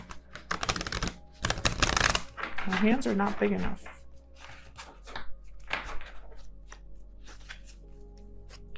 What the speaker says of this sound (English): Let me see if I can actually shuffle this way.